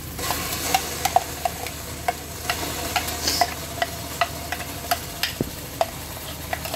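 Finely ground onion-coconut paste for spicy misal sizzles softly in oil while a spoon taps and scrapes the pan in a regular rhythm of sharp clicks, close and fairly quiet.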